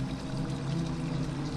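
Steady pouring water sound in the Prince of Persia: The Sands of Time video game, a continuous, even rush with no talking over it.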